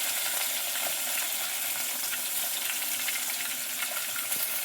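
Onions and green chilies sizzle steadily in hot oil with fennel seeds and salt, a dense continuous frying hiss with occasional soft pops and stirring scrapes, close and fairly loud throughout.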